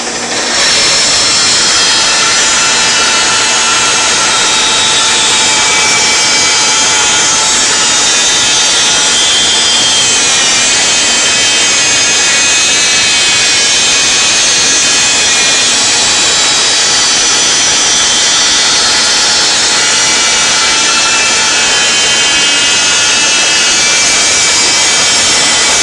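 A Shopsmith SS102 bandsaw resaws thin wood stock in one long continuous cut, a loud steady rasping whine with only slight shifts as the blade feeds through.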